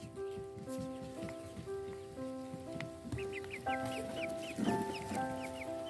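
Small Serama chickens cluck and chirp in quick repeated bursts inside a truck, partly under a steady stepped musical melody.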